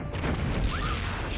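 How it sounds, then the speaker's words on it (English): Explosion in a Duke Nukem video game: a loud, dense blast of broadband rumble filling the whole clip, with a brief rising-falling tonal whine partway through and no speech. "that explosion got her"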